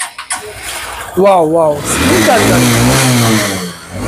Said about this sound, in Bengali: গাড়ির সাউন্ড একদম ইঞ্জিন কন্ডিশন একদম